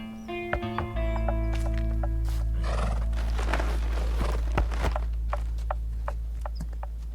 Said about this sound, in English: mind if I take one of them there horses